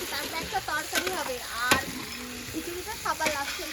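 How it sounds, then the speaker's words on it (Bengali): Cauliflower, carrot and beans frying in a pan with oil, a steady sizzle broken by clinks and scrapes of stirring close by. "আগে সব রকম সবজিগুলো ভেজে নিচ্ছি"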